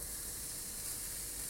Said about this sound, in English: And that sizzle just tells us we've got the pan good and hot.